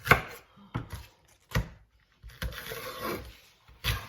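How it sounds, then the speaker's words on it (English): A knife chopping silver beet on a cutting board, several sharp, close thuds with short pauses between them and a brief rustle of leaves. "you watch how I cut the silver beet"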